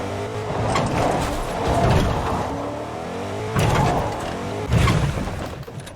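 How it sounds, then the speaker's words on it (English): A modded-tire monster truck in the Fortnite video game drives along with a continuous engine roar that surges twice as it accelerates, loud and close with no talking over it. "this modded tire monster truck looks really cool. It looks like a monster truck, and it drives really smooth"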